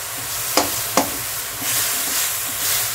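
Pumpkin leaves cooked with fish fry in a pan, a low sizzle broken by two sharp stirring knocks early on, then a softer steady crackle.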